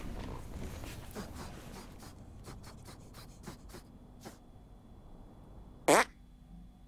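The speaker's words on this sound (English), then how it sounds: "Make your fart detonate behind me." A cartoon fart sound effect from South Park: one short, sharp burst near the end, after faint scattered clicks and low rustling noise.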